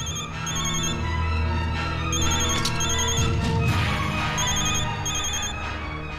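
A telephone rings in repeated electronic bursts over a continuous low background hum, with no speech.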